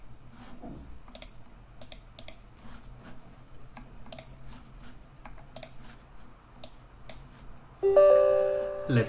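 Computer mouse clicks opening an SQL Server installation file, a series of light sharp clicks scattered across the clip, close and quiet, with someone speaking and a brief tonal system sound near the end.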